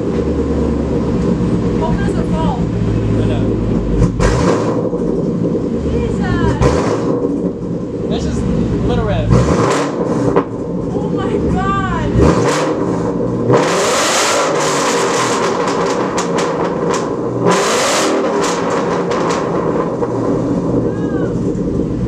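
A loud straight-piped Ford Mustang 5.0 exhaust rumbles and revs repeatedly in close range, with crackling pops and bursts, and people talking briefly over it.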